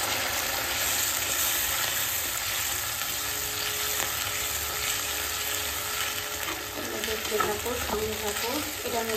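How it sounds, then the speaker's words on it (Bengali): Vegetables frying for chilli chicken give a steady, close sizzle that runs unbroken throughout, with a few stirring scrapes near the end. "এবার দেখো আমার সবজিগুলো অনেকটা ফ্রাই হয়ে গেছে"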